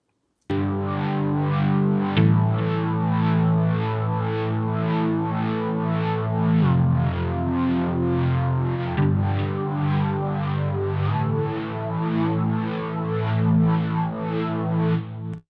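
A synth plays a sustained, harmonically rich tone with a steady pulsing rhythm and a few shifting chord changes, first dry and then widened by a Softube doubler plugin that adds stereo spread and a light chorus-like modulation.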